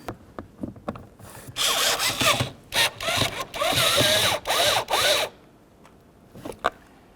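A power drill drives a screw into the side mirror of a 1998-2002 Honda Accord, sounding in several loud bursts of whirring separated by brief pauses, close and without talk.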